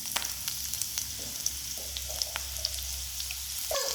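Onion, curry leaves and tempering spices fry in oil with a continuous fine sizzle and occasional crackles and pops, alone and fairly close.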